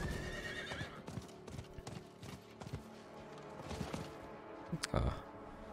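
Horse hooves clip-clop in a quick trot in the video game Diablo IV, close and fairly loud, with a whinny and a sharp burst near the end, a voice briefly underneath.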